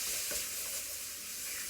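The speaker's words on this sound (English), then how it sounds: "you can stir them around a little bit so they don't burn on the bottom of the pan" Ginger and spices sizzle in a pan for lentil soup, a constant bright frying hiss with a couple of soft stirring scrapes, close up and alone without speech.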